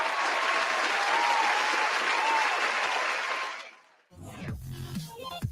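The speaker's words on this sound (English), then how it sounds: "Sandy Alcantara gets a standing ovation, and he tips his cap to the crowd beyond the third base duck" A ballpark crowd at Marlins vs Mets gives pitcher Sandy Alcantara a standing ovation, steady loud applause and cheering filling the stadium for several seconds before fading out, followed by someone talking.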